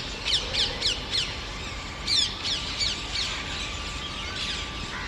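Repeated harsh squawks of parrots in flight, short bursts, several calls in two clusters, moderately distant over steady outdoor background noise.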